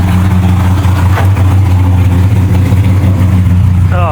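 A car engine fitted with a new carburetor idles loudly at a raised, steady rumble with a constant low hum, heard close, and a brief rising squeak near the end.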